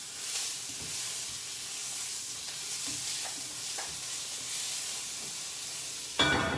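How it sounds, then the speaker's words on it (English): A meatball dry-roasting in a pan with very little oil sizzles with a steady, bright hiss, faint pops and crackles scattered throughout, and a louder burst of spitting near the end. "The meatball in the pan, basically almost dry roasted,"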